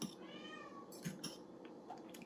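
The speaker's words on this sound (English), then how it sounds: "Can y'all hear my cat in the background?" A house cat meows faintly in the background of a kitchen, with a couple of brief, thin calls rising above a low room hum and no talking.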